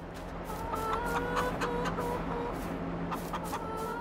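Chickens cluck in a pen in Farming Simulator 22, repeated short clucks over a steady farmyard background hum, moderately faint with no talk.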